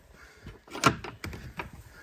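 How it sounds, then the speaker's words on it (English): A weathered backcountry hunting hut door on the Ruahine Range swings open, giving a short creak and rattle near 0.8 seconds, with scuffing and handling noises before and after. "Oh, door opens all good."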